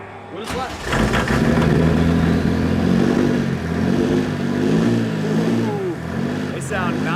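An engine on a helicopter-powered party barge runs loud and close, rising and falling as it is revved with added fuel, while someone speaks over the steady drone.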